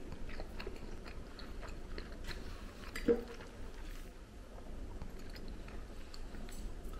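Close, quiet chewing of a whole wheat dinner roll, with soft, repeated wet mastication and one sharper bite partway through, continuing steadily without talk.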